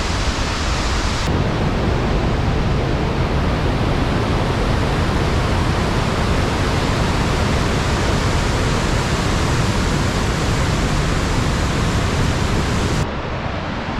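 A powerful Icelandic waterfall roars in a steady, loud, unbroken wash of rushing water that fills the whole stretch, with no voices.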